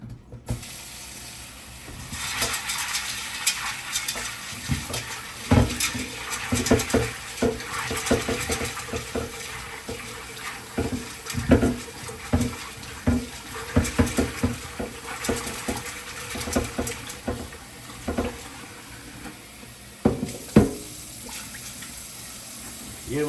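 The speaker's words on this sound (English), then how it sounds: "I'm gonna wash the peas." Red peas being washed under a running kitchen tap, with steady water flow punctuated by irregular splashing, rattling and stirring knocks from the peas and pot at close range, alone without talk.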